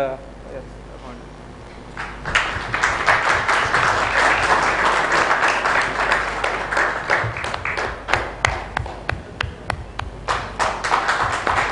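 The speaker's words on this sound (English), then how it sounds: "big round of applause." Audience applause at a smart city conference in Bhopal, a broad wash of clapping that swells after a quieter start and continues steadily with sharper individual claps near the end, while a voice speaks over it.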